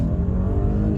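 Audi Q8 SUV accelerating hard, a loud, close engine rising steadily in a short continuous burst, with no talk over it.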